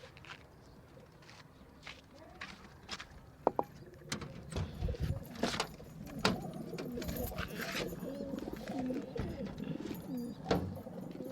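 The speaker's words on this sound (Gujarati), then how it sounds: "આપણા બધા કબૂતર આવી ગયા છે લોફ્ટમાં" Pigeons cooing inside their loft, a steady murmur of low calls with soft wingbeats and footsteps shuffling about, fairly close and continuous throughout.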